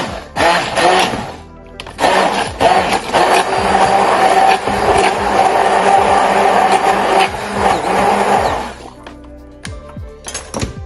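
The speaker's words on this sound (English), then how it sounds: "Plum tomatoes. Just get this hand blender and blend them." A hand blender whirs loudly through plum tomatoes for about seven seconds, starting and stopping abruptly, with a short burst at the start and quieter kitchen clatter after.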